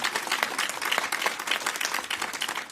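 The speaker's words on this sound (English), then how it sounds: "Let's give them a big round of applause" An audience at a mayoral welcome event for JLABS and Johnson & Johnson in Washington, D.C. claps in a soft, fairly distant round of applause, individual claps faintly discernible in an uneven patter.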